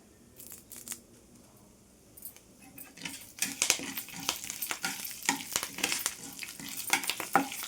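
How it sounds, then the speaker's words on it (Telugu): Chana dal, urad dal and curry leaves fry in oil. The sound starts quiet with a few clinks, then becomes a busy sizzle with scraping stirring strokes and spoon clatter. "పప్పులు మాడనివ్వద్దు, ఎరుపు రంగు వచ్చేంత వరకు వేయించుకోవాలి"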